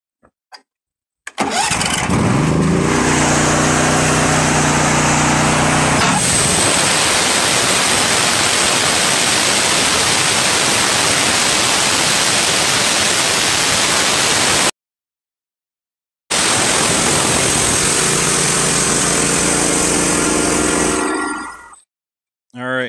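A loud engine starts and settles into a steady roar as a TimberKing 1220 sawmill bites through an oak log, a harsh broadband whine lasting long stretches, then cutting out abruptly.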